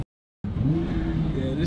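A 2019 Nissan GT-R with its exhaust missing starts up after a moment of silence, then drones loudly and steadily, a raw, close, unmuffled engine tone holding through to the end.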